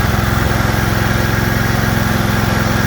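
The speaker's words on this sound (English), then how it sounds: "Real smooth running motor." Cub Cadet 50-inch zero-turn lawn mower idling nearby, a steady low engine chug with even pulsing firing rhythm throughout, loud and alone with no talk.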